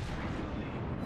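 A battleship's main guns, on a New York in World of Warships, fire at an Omaha cruiser in one brief, dense, rumbling boom that fills the moment without letup.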